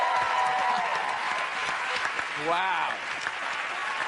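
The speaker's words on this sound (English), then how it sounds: "A big round of applause for the Bush family" A television studio audience breaks into sustained applause and cheering for a family of contestants on a marriage-themed comedy show, with a voice exclaiming briefly over the clapping.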